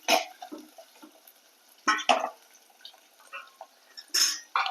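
Tamarind curry roasting in a clay pot, stirred now and then, with a few sharp scrapes and knocks against the pot between quieter bubbling stretches, close up and with no talking.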